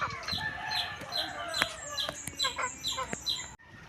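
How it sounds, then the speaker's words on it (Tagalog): A chick peeps in a farm field with repeated high, thin calls that come in a quick irregular series. Other fowl cluck and chirp nearby. "May nasiyap na sisiw."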